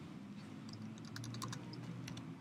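Steady computer keyboard typing with quiet, irregular key clicks over a low background hum, no voices.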